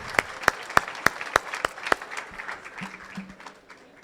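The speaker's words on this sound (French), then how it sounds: "Marouane, On applaudit." Applause at an end-of-year university ceremony: a handful of sharp, evenly spaced claps up close ring out over a broader crowd clapping that fades out, with faint voices underneath.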